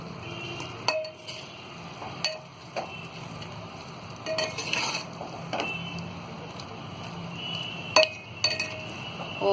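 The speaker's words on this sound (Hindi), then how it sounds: "सारी चीजों को डालने के बाद में अब हम इसे एक बार मिक्स करेंगे इस तरह" Chicken biryani for Sindhi biryani, with fresh coriander added, gets mixed in a pot: a spoon clinks and scrapes against the metal in scattered close strikes over a low background, with no talking.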